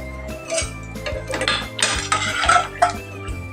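A spoon scrapes and clinks against the metal of a pressure cooker while mashing cooked carrots for halwa, in a quick irregular run of knocks and scrapes close up.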